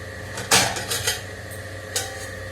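Dishes being washed, with pots and cutlery clattering: a loud clank of metal and crockery, then smaller knocks and one more clatter near the end, over a low background hum.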